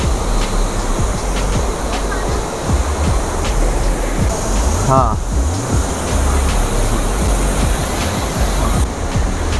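Tosh waterfall near Kasol rushes with a constant, loud, dense roar of tumbling water close by, steady throughout the scene, while someone briefly speaks over it.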